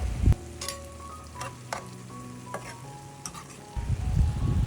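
Long beans being stirred with shrimp frying in a pan, a light sizzle broken by sharp clinks and scrapes of a utensil against the pan, ending in a louder rush of frying and stirring.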